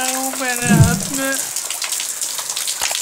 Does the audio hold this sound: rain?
yes